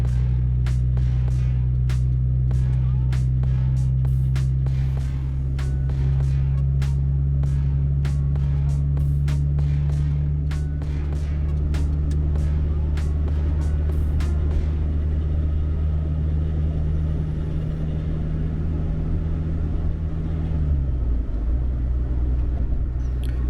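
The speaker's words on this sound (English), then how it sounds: "once you're over the crest and you start heading down, you can let off your gas and you basically cruise down" Car coasting downhill across the Demerara River Bridge, a loud steady road rumble with a low engine drone that sinks in pitch near the end, plus rhythmic ticking thumps from expansion joints during the first half.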